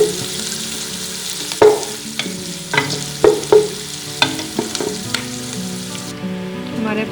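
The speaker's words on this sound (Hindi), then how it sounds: "हमारे प्याज आहिस्ता आहिस्ता ब्राउन होना शुरू हो रहा है।" Onions frying in a pan for a potato and capsicum curry, a steady sizzle broken by sharp scraping and stirring knocks of a spatula against the pan, close and clear with no voices.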